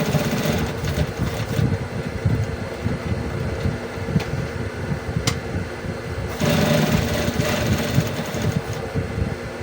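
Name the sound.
sewing machine stitching a scrap fabric doormat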